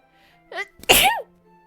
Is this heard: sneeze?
yes